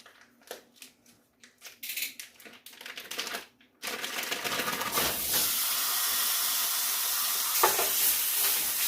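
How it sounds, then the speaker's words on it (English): Ground beef sizzling and frying in a preheated cast iron skillet greased with a little bacon grease, a steady loud hiss after a few light scrapes and clicks at the start. "I have my cast iron skillet preheating to go ahead and cook my ground beef"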